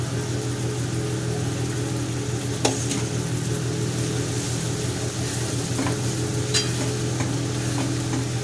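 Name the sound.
prawns frying and being stirred in masala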